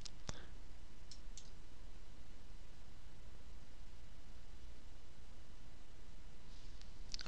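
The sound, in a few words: computer mouse clicking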